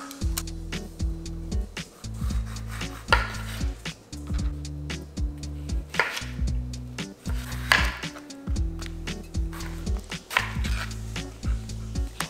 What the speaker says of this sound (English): I have some pears that are going bad, so I'm going to cut them and put in this celery juice